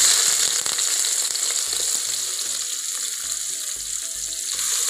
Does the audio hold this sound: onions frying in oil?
yes